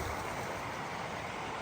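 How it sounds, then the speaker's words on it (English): A small creek flows in a constant, broad rushing wash, close by and unbroken for the whole short stretch, with no talking. "Okay, goodbye, little creek."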